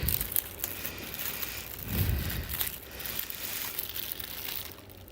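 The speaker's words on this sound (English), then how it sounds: "I'm gonna get it out of the wrap" Plastic wrap crinkles and rustles steadily as it is pulled off a protective case for an Atomos Ninja Flame 4K monitor, close and fairly loud, with a heavier crunch partway through.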